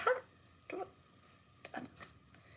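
An indoor dog gives a few short barks and yips in separate bursts, moderately close and alone, with quiet room tone in the gaps between them.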